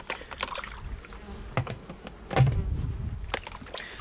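Honey bees in an opened hive that holds too few bees keep up a steady, close buzzing, with scattered knocks and handling noises from the inspection.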